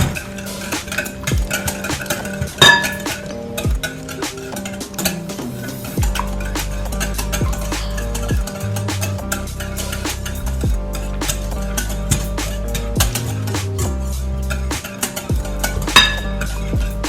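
Pumpkin bread batter mixed in a bowl: a utensil scrapes and clinks against the sides in uneven strokes, close and clear, with a low motor-like hum in the background for part of the time.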